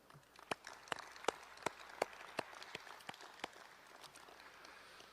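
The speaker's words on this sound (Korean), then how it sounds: "이 모든 분들께 뜨거운 감사의 박수 보내주시면 좋겠습니다." An audience applauds at a political party convention during Lee Jae-myung's presidential nomination acceptance speech, with faint, sparse, sharp claps arriving in a steady, evenly spaced rhythm.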